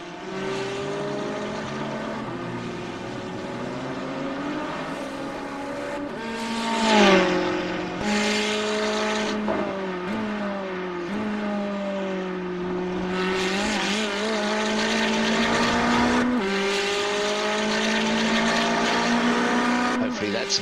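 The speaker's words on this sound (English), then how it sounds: "turn those engine sounds up a little bit." Race car engines roar in Gran Turismo 4 in a continuous, loud, high-revving drone with pitch rising and dropping through gear changes and passing cars, while a voice talks over it.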